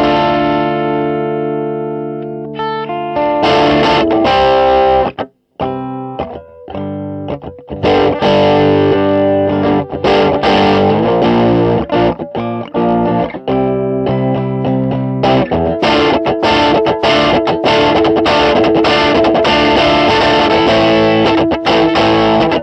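Distorted guitar music played through a Fuzz Face pedal, dense and loud with thick fuzz, a brief dropout near the start and steady driving rhythm throughout.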